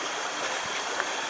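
Creek water in Martins Fork, Red River Gorge, flowing in a steady, close rushing babble with faint trickles, continuous and unbroken for a brief moment with no voices.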